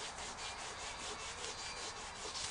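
Glue being scraped off a thin luan panel in a motorhome build, quick rhythmic rasping strokes repeating about four times a second, soft and close.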